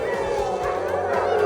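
Pack of huskies barking and howling together at a husky farm in Finland on a -13°C evening, dense overlapping yips and calls filling the air at steady loudness.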